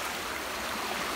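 A shallow stream flows steadily, giving a continuous close hiss and burble of running water with no talking.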